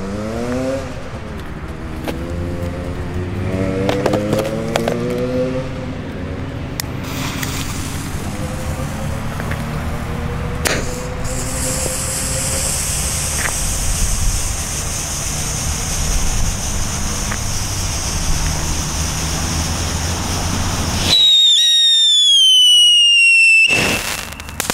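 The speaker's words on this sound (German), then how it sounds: "Super lautes Pfeifen, wirklich ohrenbetäubend laut." A Funke Höllenfeuer New Year's Eve firework roars loudly with crackling and a sustained bengal flare hiss, then an ear-piercing whistle rises and glides in pitch near the end.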